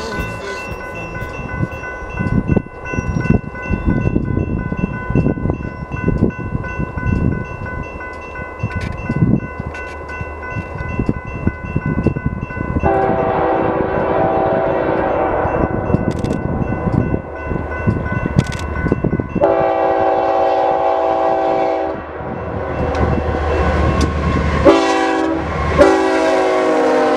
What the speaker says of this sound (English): After the Grand Canyon Limited left the station